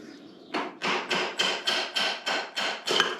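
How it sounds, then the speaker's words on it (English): A mallet knocks a bearing out of a BMW K100 motorcycle part during café racer disassembly, giving eight evenly spaced, close, solid knocks in a steady rhythm. "Do we just mallet it out?"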